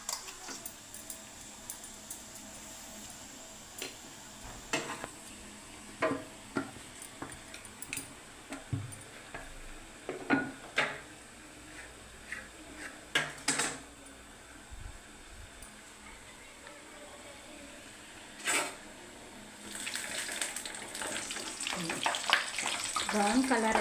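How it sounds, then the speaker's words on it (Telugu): Panasathonalu sweet pieces frying in hot oil, a steady close sizzle with scattered crackles and pops that grows denser and louder toward the end. "బ్రౌన్ కలర్ వచ్చేదాకా వీటిని వేగిస్తూనే ఉండాలి"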